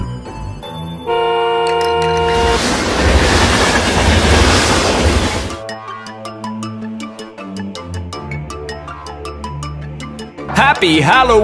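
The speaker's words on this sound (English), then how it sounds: "Train." A toy train running, heard as a rhythmic clickety-clack with ticking beats, set among bright children's music and a burst of louder noise in the middle.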